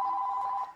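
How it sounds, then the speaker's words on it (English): A telephone rings in a home kitchen during an old-fashioned goulash cooking lesson, giving one loud, steady electronic ring tone on its own before it cuts off. "Sorry for the phone. I never know what's going to ring."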